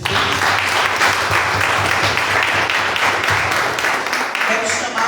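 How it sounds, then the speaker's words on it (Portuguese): A church congregation at a worship service applauds in praise, a loud, sustained wash of many hands clapping close by, with voices mixed in beneath it. "Mais uma salva de palmas para Jesus."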